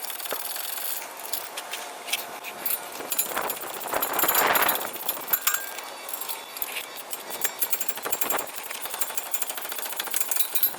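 Power tool spinning out the wheel bearing bolts on a Ford Explorer, a loud sustained mechanical whirring and rattling that runs nearly the whole time, swelling to a denser burst midway.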